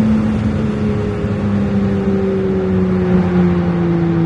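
A Ferrari 296 GTB drones under acceleration as heard from inside the car, a steady engine tone sliding gradually lower in pitch, moderately loud and continuous.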